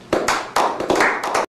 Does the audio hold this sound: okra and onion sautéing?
no